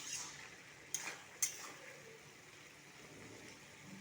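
A spoon stirs pumpkin and potato pieces in a pan with no water added, giving soft scraping and faint sizzling along with two brief sharp clinks against the metal.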